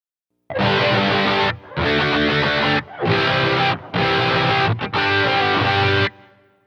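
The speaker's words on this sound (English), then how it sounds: "Here's a block I created with my boosted overdrive preamp, a chorus, and room reverb." Electric guitar played through a boosted overdrive preamp with chorus and room reverb, five loud sustained distorted chords with short gaps between them, the last ringing out into a reverb tail.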